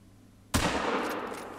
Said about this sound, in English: I'm going to take a shot anyway.